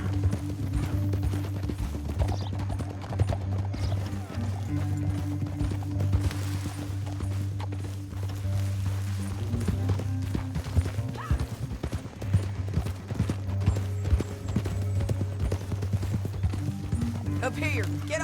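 Horse hooves clip-clopping in a steady rhythm while riding in Red Dead Redemption 2, close and continuous, under low rumbling background sound and some spoken dialogue.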